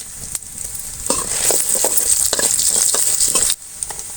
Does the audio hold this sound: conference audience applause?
no